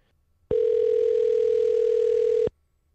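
A mobile phone calling tone: one steady, loud electronic tone lasting about two seconds, starting and stopping abruptly, heard alone with near silence before and after.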